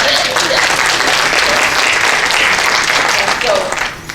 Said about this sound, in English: Applause to Xavier.